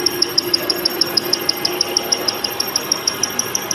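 A modern machine cutting a V-shaped groove gives a steady, close mechanical whine with a fast, even pulse of ticks running straight through, with no talking.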